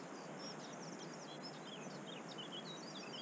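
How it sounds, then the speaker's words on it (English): Many birds singing outdoors in the countryside, overlapping high chirps and trills scattered throughout, set against a constant broad hiss of wind or ambient noise, with no talking. "Also, hopefully you can hear the amount of bird life around here as well."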